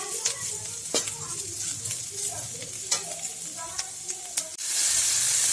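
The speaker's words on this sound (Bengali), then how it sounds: "এদিকে আমি আলুটা ভাজা করছি," Potatoes frying in oil give a soft, continuous sizzle with scattered utensil clicks and scrapes, then the hiss rises sharply and loudly near the end.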